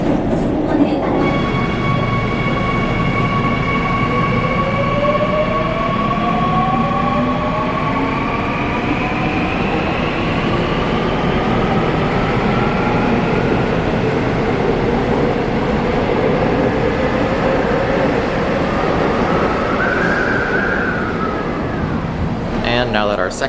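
Inside a moving Korean train car, a loud steady rumble of wheels and motors carries rising and falling whining tones throughout, with voices in the background.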